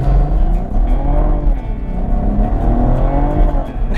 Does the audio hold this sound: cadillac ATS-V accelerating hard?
yes